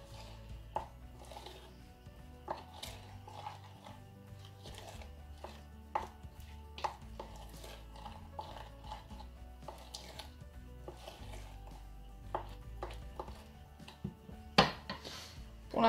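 Toothpaste slime mixed with a baking soda solution in a bowl gives a steady run of soft, close tapping and scraping knocks from the stirring utensil, repeating irregularly over a low background hum.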